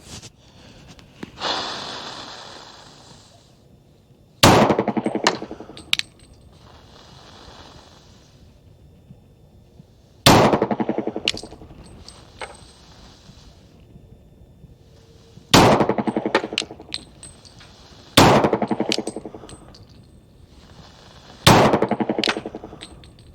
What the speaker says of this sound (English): this is 180 grain practice ammo through the Sig 229